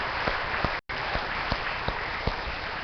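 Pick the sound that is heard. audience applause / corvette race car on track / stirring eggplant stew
audience applause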